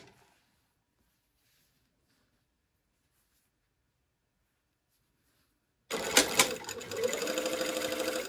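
Sewing machine stitching close to the fold of a tower sleeve placket starts abruptly after a long silence, then runs loud and steady with a brief burst of louder rattling.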